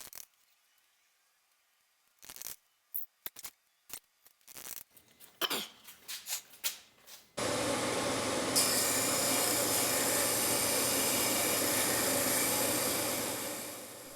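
Disc sander trimming the stray wood ends off a small Kumiko panel, a steady loud whirring grind that starts after a run of scattered light taps and knocks, then fades slightly near the end.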